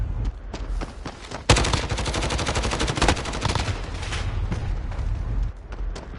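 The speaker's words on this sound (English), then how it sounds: "Two shots." Rapid gunfire in a shooter video game crackles in dense bursts of sharp, close shots, with a heavy sustained volley in the middle and scattered single shots around it, without talk.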